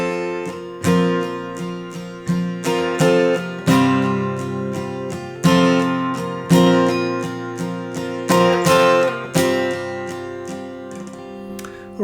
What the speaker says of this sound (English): Alright, so I'm still playing all downstrokes there.